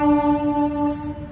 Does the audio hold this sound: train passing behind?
yes